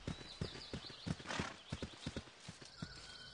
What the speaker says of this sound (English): Oh, it's a horse!